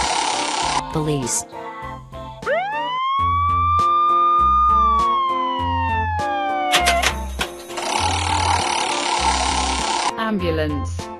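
A police car siren sounding in a children's animal, vehicle and colour learning game, a long rising then steady wail set between bursts of music.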